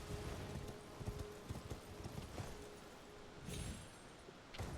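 Hooves of a horse galloping in the video game Elden Ring, a fast rhythmic run of clip-clop thuds over layered game ambience, no talking heard.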